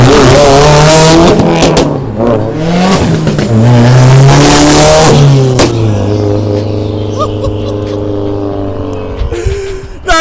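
A Subaru WRX STI with a full turbo-back ETS exhaust revs hard nearby, a loud rising and falling engine roar with pops and crackles, then settling into a steady drone before tapering off.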